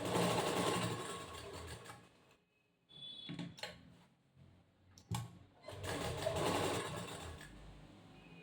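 Sewing machine stitching fabric for the back panel of a cross-cut blouse, running in two long bursts of steady whirring with a brief pause and a few short clicks between them.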